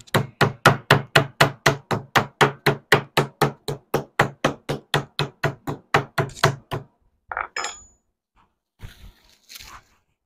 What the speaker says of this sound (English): we like to pound first, pound it out, get it all nice and flat before you trim it